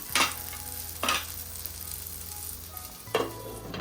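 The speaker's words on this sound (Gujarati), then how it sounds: "હજુ આપણે થોડી વાર માટે કંટોલાને ચડવા દઈશું" Stuffed kantola (spiny gourd) cooking in a pan as a Gujarati shaak, a soft steady sizzle with three distinct scraping stirs at irregular intervals, close by and without speech.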